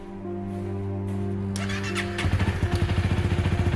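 A motorcycle engine idles with a steady drone, then revs up sharply into a loud, pulsing throttle burst as the bike pulls away.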